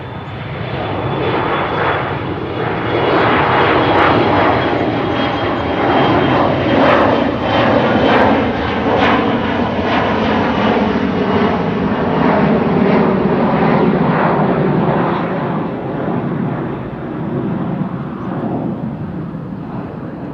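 An airliner climbs out after takeoff at Amsterdam Schiphol Airport. Its jet engines make a loud, sustained roar that holds steady for a long stretch, then eases slightly as the aircraft moves away.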